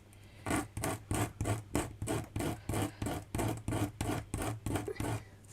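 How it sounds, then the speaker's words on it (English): Sandpaper rubbing the flattened end of a tiny handmade miniature piece, about a dozen quick, even back-and-forth rasping strokes, close and soft, with no talking. "So I've got my sandpaper."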